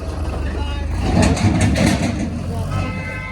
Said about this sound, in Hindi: ट्रैफिक की प्रॉब्लम रहती है गाइस यहाँ पे बहुत ज़्यादा